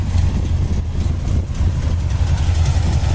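A 1969 Plymouth Roadrunner engine idles steadily with a deep, loud low rumble through new dual exhaust that ends at the rear axle without finished tailpipes, running continuously and close with no talking.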